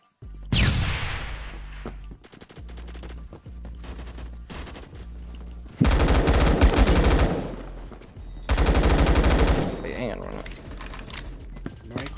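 Gunfire in the video game Phantom Forces: an opening shot, then bursts of rapid automatic fire, some loud and close, some quieter, with players talking over the action.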